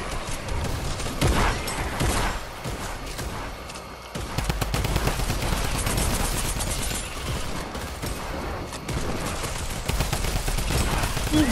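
Rapid, dense gunfire from several weapons during a video game horde mode, crackling near and loud almost without pause for the whole stretch.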